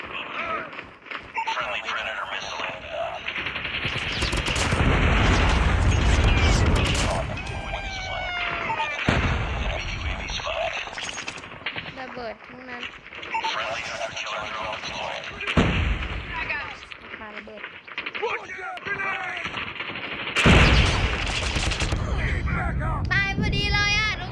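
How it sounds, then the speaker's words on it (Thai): Video game gunfire crackles in rapid bursts and heavy blasts, loud and dense for long stretches with brief pauses, while a person talks over it. "ยิงกันอย่างนี้เลย"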